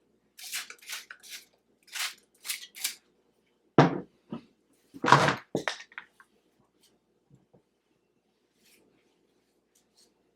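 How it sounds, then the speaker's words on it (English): Scissors snip close up through hair in a series of short crisp cuts, some quick and rhythmic, others spaced apart, followed by near silence. "now I'm just gonna use my scissors and start from the back"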